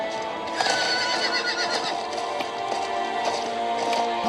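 A horse neighs and whinnies repeatedly in Diablo IV gameplay over a busy, dense background of game sound, with hooves clip-clopping faintly throughout.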